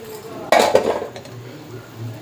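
A lid is set onto a pot of boiling North Karnataka-style tomato chutney, giving one sharp metallic clank with a short rattling ring-off over a faint background hum.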